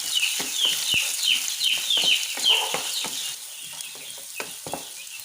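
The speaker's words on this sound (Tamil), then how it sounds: "ஆனியன் போட்டு நல்லா வதக்கி விடுங்க." Onion for paniyaram sautéing in a pan, a steady close sizzle with repeated scraping stirs and soft clinks running throughout, no talk.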